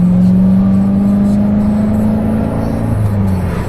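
Corvette C7 Z06 with the Z07 package, 659 hp, its engine droning loud and steady up close, the pitch slowly falling and then dipping near the end, with no talking.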